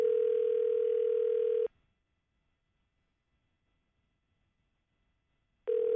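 Unanswered phone call tone on a live morning show, a steady ringback tone for about a second and a half, a long silent gap, then the tone starting again.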